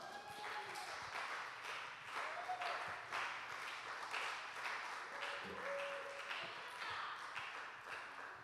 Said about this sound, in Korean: 우리 목사님 나오실 때 뜨거운 박수로 맞이하겠습니다